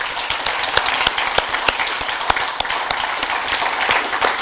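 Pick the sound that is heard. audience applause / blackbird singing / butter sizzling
audience applause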